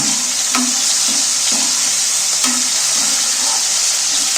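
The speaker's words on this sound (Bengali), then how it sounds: "দেখো টমেটো তো অনেকটা ভাজা ভাজা হয়ে এসছে" Tomatoes fry in a pan for a spinach and paneer dish, giving a loud, steady sizzle. A spoon scrapes and stirs through it at a regular pace, making soft knocks at intervals of roughly half a second to a second.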